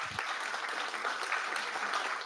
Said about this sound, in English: give a big round of applause to our esteemed panelists here